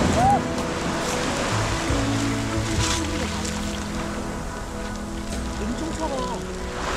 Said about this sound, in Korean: 파도 소리도 실컷 듣습니다